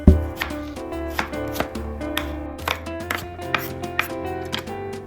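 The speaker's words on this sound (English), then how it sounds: "I'm gonna start by dicing some red onion." Quick, irregular knife taps dice red onion on a cutting board beneath a soft background of music, close and fairly light.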